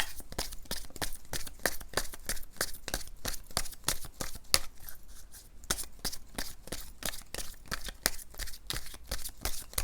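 Tarot cards are shuffled close up in a fast, steady riffle, the crisp flicking and slapping of the cards repeating in an even rhythm for about ten seconds, with no talk.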